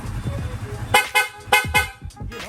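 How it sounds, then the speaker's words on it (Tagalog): A loud aftermarket motorcycle horn on a Yamaha Sniper 155 honks in several short, sharp blasts, close by, after a few quiet moments with faint talk. "pa-activate naman ang loud horn."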